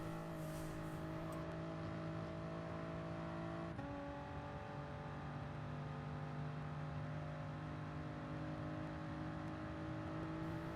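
A Toyota GR Supra race car in Gran Turismo Sport at Lago Maggiore GP, its engine droning steadily under throttle with a brief shift or dip in pitch, loud and continuous with no talk.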